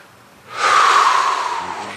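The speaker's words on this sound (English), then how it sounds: "Relax, take a couple of deep breaths." A single long, deep breath drawn during a relaxing movement session: a loud, rushing, breathy hiss that lasts over a second and slowly fades, with no talking.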